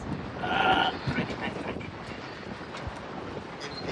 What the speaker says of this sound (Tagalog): Mahangin lang kasi mataas tayo.